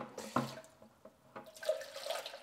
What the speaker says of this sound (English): let's go ahead and give this some water for sure.